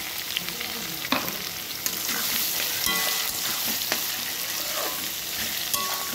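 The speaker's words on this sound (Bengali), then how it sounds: "আমি এগুলো তেলের মধ্যে এবার গরম তেলে দিয়ে দিলাম, হালকা একটু নাড়ব" Spices and chopped onions fry in hot oil on a high flame for chicken khichuri, a continuous close sizzle broken by scraping clicks of stirring at irregular intervals.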